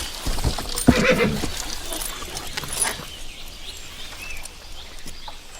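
A horse whinnies loudly in an outdoor medieval adventure scene, a sharp neigh near the start followed by quieter rustling and faint background sounds.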